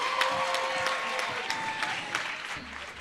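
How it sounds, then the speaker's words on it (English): Audience applause fills a business summit hall for small enterprise and co-operative entrepreneurs, with steady, dense clapping from a large crowd and a few sharper claps standing out, fading slightly toward the end. "Wow, you can give him another round of applause."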